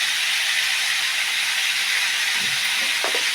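Garlic and a spoonful of cumin seeds sizzle in hot oil for a tomato and ivy gourd chutney, a steady loud hiss throughout with a faint clink near the end, no voices.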